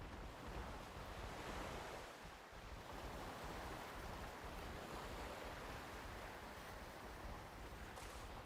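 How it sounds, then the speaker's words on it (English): Beach waves in Pokemon Scarlet wash in a steady, broad surf roar with wind-like hiss, continuous and even for the whole stretch, with no music or voices. "at least we have the calming sounds of the beach"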